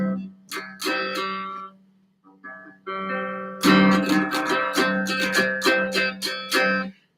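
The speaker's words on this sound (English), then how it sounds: "Now the bottom 4 string chords that sound something like this right here." Guitar chords strummed on four strings: a few sharp strums, a brief pause, then a quicker run of rhythmic strummed chords ringing out.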